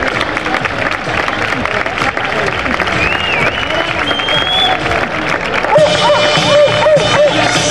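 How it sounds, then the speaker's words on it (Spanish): Audience applause at the Santa Fe de Moda 2024 fashion show, a sustained crowd clapping with some cheers, loud and close, while background voices carry over it. "Un aplauso para ella."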